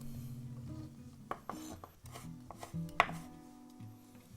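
A knife taps and slices through kelp on a cutting board, several short, close chops spaced unevenly, with a light clink of utensils.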